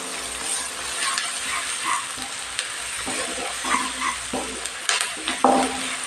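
Onions sautéing with salt in a pan while making agathi flower poriyal. A steady sizzle runs throughout with frequent scraping stirs of a spoon against the pan, close and fairly loud, with no talking.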